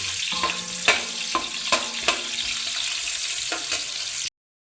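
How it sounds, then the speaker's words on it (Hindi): Sliced onions frying in 1.5 cups of oil in a large pot for a three-kilo chicken pulao, a bright continuous sizzle punctuated by several clanking stirs, close, ending abruptly, no talking. "प्याज को हम गोल्डन ब्राउन होने तक पकाएंगे"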